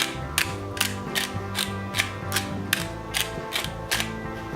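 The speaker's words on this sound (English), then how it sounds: "a little fresh cracked black pepper" A pepper mill grinds fresh black pepper over chicken in a series of even, rhythmic ratcheting clicks, about two per second, close up and crisp with no talk.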